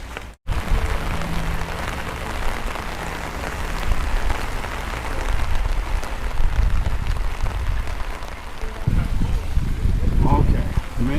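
Steady rain falls outdoors at Del Lago, a restaurant at Disney's Coronado Springs resort, as a constant broadband hiss that runs through the whole stretch, with indistinct voices and some low rumbling mixed in.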